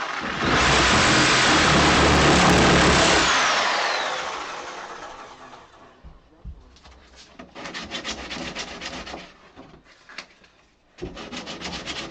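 A power tool trimming the wood of a pine door being hung, a loud close grinding roar for several seconds that winds down, then quieter rasping scraping bursts.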